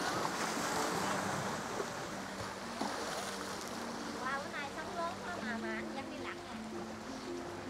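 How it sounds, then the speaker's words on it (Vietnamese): Rough surf rolling around Nam Du island on a day of strong waves, a broad watery rush that eases midway while people talk over it. "Ôi, nước sóng, hôm nay sóng mạnh quá."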